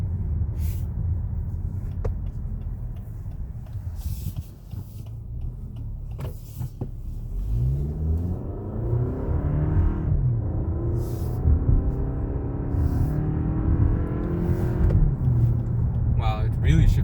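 A 2021 Lexus ES250 AWD accelerating hard, engine drone rising steadily in pitch toward about 6,000 RPM before a gearshift, heard from inside the cabin with road noise and a person talking over it.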